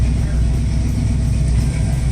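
A 1976 Pontiac Trans Am with fuel injection idles at about 1,900 RPM after warming up, a steady low engine rumble droning on without change, loud and close.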